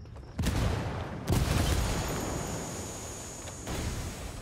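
A grenade explosion in Ghost War, two heavy booms about a second apart followed by a long rumbling decay, loud and close.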